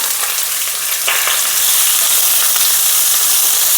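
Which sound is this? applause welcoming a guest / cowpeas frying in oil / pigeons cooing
cowpeas frying in oil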